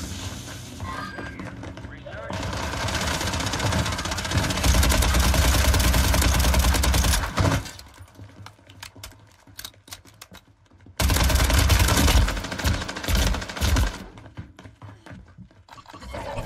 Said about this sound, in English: They're just blindly firing and shit.